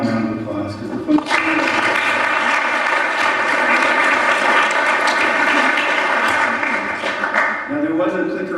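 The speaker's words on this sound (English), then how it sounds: "we should give them all a round of applause" An audience at a talk on the hazards and risks of moving crude oil bursts into full, steady applause that holds for about six seconds and then trails off. Someone speaks briefly before and after the clapping.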